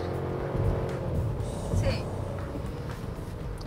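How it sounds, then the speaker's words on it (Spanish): Three-cylinder SUV engine giving a low, steady purr close by, continuous throughout while someone talks over it. "Incluso el 3 cilindros tiene un ronquidito chévere"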